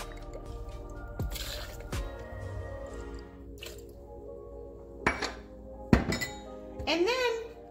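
A vodka bottle cracked open and two ounces poured for a cocktail, with scattered clinks of glass, liquid drips and sharp clatters spread across several seconds at moderate volume.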